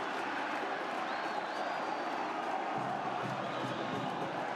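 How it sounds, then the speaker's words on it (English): Football crowd at Estadio Fello Meza during a Copa Centroamericana match between Cartaginés and Universitario, a dense continuous roar of cheering from a large stadium audience with a steady sustained level throughout. "An eruption of noise here at Estadio Fello Meza."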